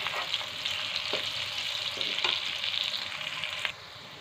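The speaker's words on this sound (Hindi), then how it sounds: "ये हमारा दूसरे तरफ से भी फ्राई हो गया" A healthy pea snack fries on its second side in a pan of oil, a steady close sizzle broken by a few soft stirring scrapes before it suddenly drops quieter near the end.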